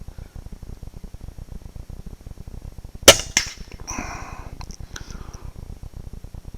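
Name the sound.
gunshots while test shooting at a target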